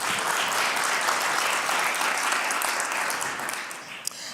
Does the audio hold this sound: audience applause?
yes